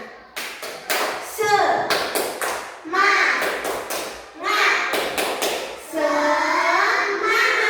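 Young children in an Indonesian first-grade classroom clap a rhythmic cheer pattern, with repeated sharp claps and thumps close by, mixed with children's voices talking throughout.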